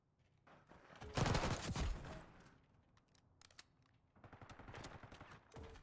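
Bursts of automatic gunfire in a first-person shooter game, a loud cluster of rapid shots followed by quieter scattered pops and a second burst near the end, with no talk over it.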